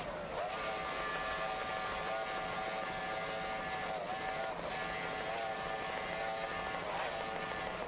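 A racing boat's Mercury 2.4 outboard screaming along in an F-class powerboat race, a continuous whining engine tone that wavers slightly in pitch, steady and fairly distant.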